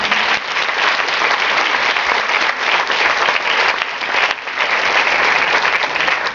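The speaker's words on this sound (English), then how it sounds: "To give them, just that round of applause." Audience applause: a dense, loud, continuous wash of clapping from a large crowd, sustained evenly throughout with no voices on top.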